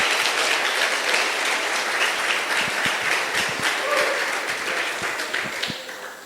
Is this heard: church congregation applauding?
yes